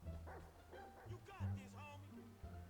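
Chop, a dog in GTA 5, barks and yips in a rapid run of short, fairly faint calls over low background noise.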